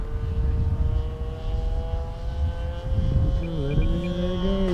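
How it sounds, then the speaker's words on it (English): A fixed-wing airplane comes in to land with full flaps, its propeller engine droning steadily and then shifting pitch as power changes near the end, heard close and fairly loud with no talk. "It sounded Beautiful. This airplane is easily the best airplane I have that lands"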